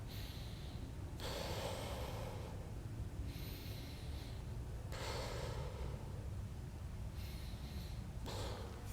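Someone holding a leg-mobility stretch for the knees and glutes breathes in slow, deliberate cycles, each audible inhale and exhale a breathy rush lasting about a second, close and fairly quiet against a low background hum.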